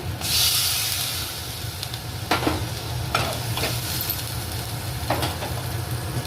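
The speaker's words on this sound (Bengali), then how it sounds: "এবার এর মধ্যে পরিমাণ মতো জল দিয়ে দেওয়া হচ্ছে" Water poured into a hot pan of egg curry with new potatoes gives a loud, steady sizzling hiss that flares at the start, with a few scraping stirs along the way and no talking.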